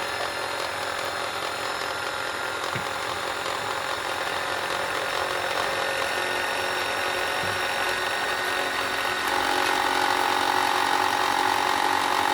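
A sewing machine's bobbin winder spins thread onto a bobbin, giving a steady, continuous motor whir that holds constant throughout and rises slightly in pitch and loudness near the end, with no talking.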